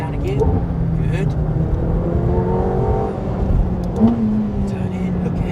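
A car pulls hard at full throttle on a test track, its engine note climbing steadily as it accelerates, while a driving instructor talks over the roar.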